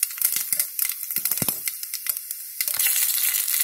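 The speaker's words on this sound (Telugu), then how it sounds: "आयिल हीट अंडी तालिंपु वेसेद्दामु फर्स्ट आवालु जीलकर्र तर्वात मिनपप्पु शनगपप्पु" Mustard seeds, cumin, urad dal and chana dal sizzle and crackle in hot oil as a tempering for okra curry, with a loud burst of hissing at the start, a run of sharp popping crackles and a thick sizzle swelling again at the end.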